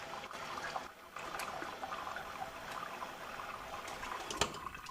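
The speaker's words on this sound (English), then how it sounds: "Just want to agitate them a bit, make sure all the peas are making good contact with that fresh water" Pea seeds swished around in a container of fresh soaking water, giving a soft, steady watery sloshing and trickling close by, no voices.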